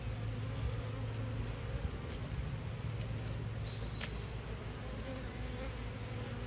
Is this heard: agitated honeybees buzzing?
yes